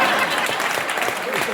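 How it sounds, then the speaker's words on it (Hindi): Loud, continuous applause from an audience at a comedy poetry recital in Rudrapur, dense clapping mixed with crowd noise and possible voices underneath. "आप लोग जोरदार तालियां बजाते जाइए, बजाते जाइए, बजाते जाइए"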